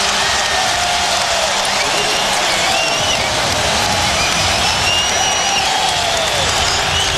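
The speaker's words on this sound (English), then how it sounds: "That Brown dunk got the crowd back into it." Basketball arena crowd cheering after a dunk in a 2009 Western Conference Finals playoff game between the Lakers and Nuggets, a dense, loud, sustained roar of voices and whistles filling the clip.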